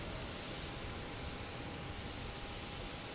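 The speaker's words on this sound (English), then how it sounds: "We get the next takeoff here." An American Airlines A319 bound for Philadelphia takes off at Boston Logan Airport, its engines a steady, dense roar that holds at even loudness throughout, with no voices over it.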